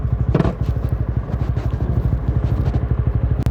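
A 2022 Honda Winner X 150 motorcycle being ridden, its small single-cylinder engine pulsing in a steady, close chugging rhythm, with a brief clatter early on and a sharp knock near the end.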